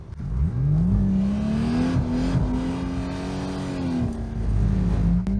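A diesel Audi RS3 drifting with a hydraulic handbrake and big steering angle, its engine revving loudly and holding a high, sustained drone with rises and dips as it slides nearby.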